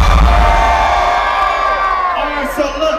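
Concert crowd at Rolling Loud Bay Area 2019 cheering and whooping in a loud, dense roar that slowly fades, with scattered shouts near the end.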